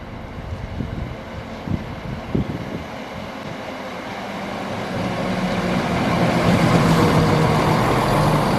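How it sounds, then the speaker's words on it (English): A Class 170 diesel train passing through Carlton on a line from Crewe to Newark Castle, rumbling in from a distance and swelling into a broad, loud roar of engine and wheels, with scattered knocks early on. "we're just in time to see a train come through"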